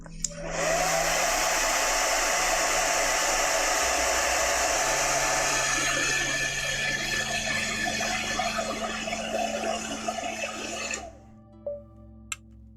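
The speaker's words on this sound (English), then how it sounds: "let's use the hairdryer" A hair dryer used on a watercolour painting blows steadily and loudly for about eleven seconds, then cuts off, leaving a few faint clicks and handling noises.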